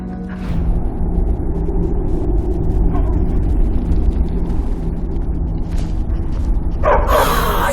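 A dog in Skyrim gives a few short barks and yips over a steady low ambient hum, fairly close, ending with a brighter burst of noise.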